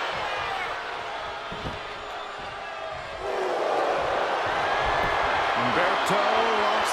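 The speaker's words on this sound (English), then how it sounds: "This crowd is on pins and needles. The WWE Universe is ready to erupt." Arena crowd noise from the WWE 2K23 wrestling video game, a steady roar that swells louder partway through under spoken commentary.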